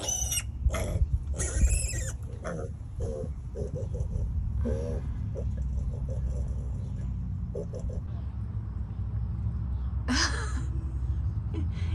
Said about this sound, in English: All that squealing.